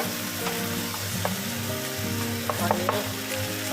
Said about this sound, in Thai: แล้วก็จะผัดไปเรื่อยๆค่ะ